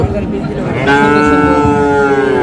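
A Friesian cross calf at a village cattle market moos loudly and close by, one long drawn-out low call, with market crowd noise behind.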